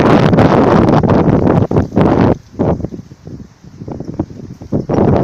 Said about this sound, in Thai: ตอนนี้พายุฝนฟ้าขนอง